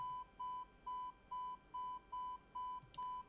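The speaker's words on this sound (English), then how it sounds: "if you ignore the beeping for a second" A cockpit warning beeps repeatedly in a Vought F8-E Crusader in MSFS 2020, a steady series of short, evenly spaced electronic tones, about eight in a row, fairly clear over a low background hum.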